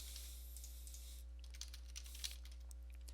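Light keystrokes tap on a computer keyboard in quick irregular bursts, faint against a steady electrical hum.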